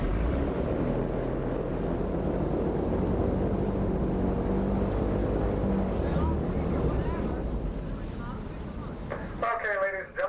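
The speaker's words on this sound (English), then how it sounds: "these two engines produce somewhere around 750 horsepower, so for your own safety, please remain seated at all times while the boat is moving." A tour boat with two engines totalling about 750 horsepower roars steadily underway with loud rumbling engine and wind noise that eases off near the end, followed by a brief voice.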